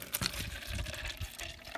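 Water pours steadily into a cup holding a little ice mist, a close, continuous trickling and gushing with a few brief splashy bursts near the start.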